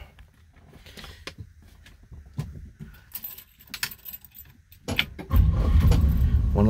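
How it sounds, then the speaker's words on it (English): A 1963 Oldsmobile Jetfire Turbo hardtop is started with a key turn: keys jangle and click in the ignition, then the engine catches near the five-second mark and settles into a loud, steady idle. "One little turn of the key, starts right up."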